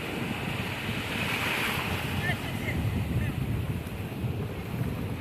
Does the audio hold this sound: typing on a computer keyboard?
no